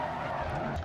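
Tires skid hard through a handbrake hairpin in the DiRT Rally 2.0 rally game, a loud continuous scrubbing squeal over steady engine roar for just under a second, with no talking.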